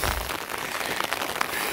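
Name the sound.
rain falling on a farm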